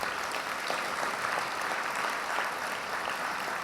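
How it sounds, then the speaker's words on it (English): Sustained audience applause at a gala, steady and dense from start to finish, with no talk over it. "Let's give her another round of applause"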